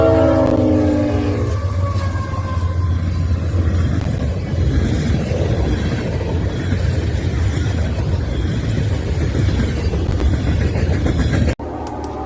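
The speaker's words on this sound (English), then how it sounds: "Our first train is CSX Q627 with CSX 3194 leading" CSX freight train Q627, led by locomotive CSX 3194 in law enforcement colors, rumbles past loud and close. A brief horn blast opens the pass, then a steady roar of wagons runs until it cuts off near the end.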